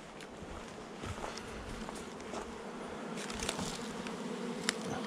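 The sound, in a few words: honeybees buzzing around hive entrance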